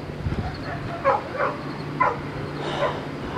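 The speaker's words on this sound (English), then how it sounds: "dog's going crazy." A dog barks repeatedly in a quick, agitated series of about four yappy barks at moderate distance over a steady background hum.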